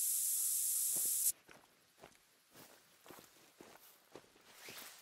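Scent spray hisses in the Call of the Wild hunting game, a loud steady spray that lasts just over a second and cuts off abruptly, followed by soft footsteps crunching through the terrain.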